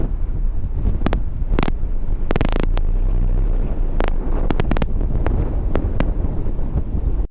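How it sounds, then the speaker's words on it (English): Strong wind buffets a microphone on top of castle ruins on Poland's Trail of the Eagles' Nests, with continuous roaring rumble and sharp gusty crackles, loud and close. "And too windy here"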